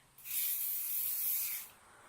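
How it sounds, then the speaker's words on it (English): Makeup setting spray hisses onto a face in one continuous burst of about a second and a half, close and bright, starting and stopping cleanly against a quiet room. "I like to just spray in a zigzag"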